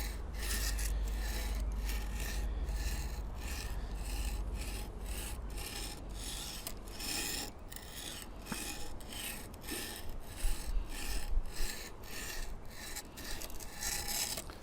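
Knife steel rasps in steady back-and-forth strokes against a coarse sharpening stone on a TSProf KO2 guided sharpener, close and continuous, with no talking.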